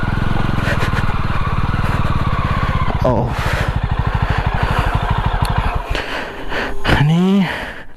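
A Jawa 42 motorcycle engine thumps in rapid regular pulses as the bike is pushed up a steep slope, then revs and cuts, with breathy human effort sounds near the end.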